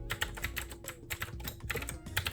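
Rapid clacky keystrokes on a mechanical keyboard, close up and steady, with no talking.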